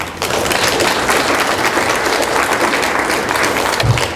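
Audience applause at an executive-in-residence talk, a full, even roar of clapping from a large crowd that sustains at steady loudness throughout.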